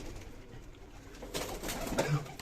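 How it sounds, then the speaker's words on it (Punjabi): Pigeons being released outdoors give soft coos and a brief flutter of movement, faint and close, rising slightly toward the end with no speech. "ਇੱਧਰ ਕਬੂਤਰ ਇੱਧਰ ਕਬੂਤਰੀਆਂ ਛੱਡਤੀਆਂ"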